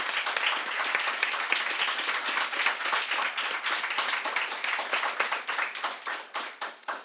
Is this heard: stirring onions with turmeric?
no